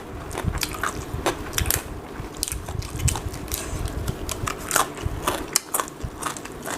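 Close, crisp crunching and chewing of Thai papaya salad eaten with rice noodles, irregular bites and crackles repeating steadily for several seconds with no talking.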